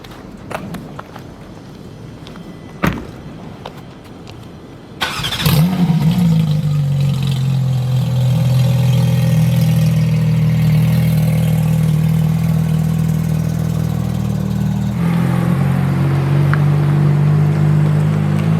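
A Porsche 911 GT3 of the 992 generation, with a naturally aspirated engine, cranks and fires with a sharp bark after a few quiet clicks, then settles into a loud, steady, close idle that holds with a slight change in tone.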